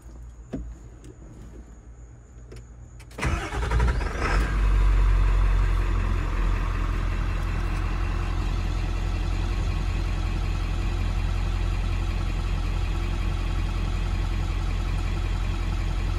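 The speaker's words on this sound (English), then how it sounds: "I'm going to start the truck." A quiet whir comes first, then a truck engine cranks and fires, settling into a steady, even idle that runs on close by.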